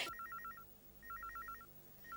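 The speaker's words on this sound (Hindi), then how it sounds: "कितनी देर से टेलीफोन की घंटी बज रही है" A telephone bell rings in a home scene from a Hindi telefilm, sounding as two bursts of rapid, warbling electronic trills separated by a short pause, with a third starting at the end; no voices are heard.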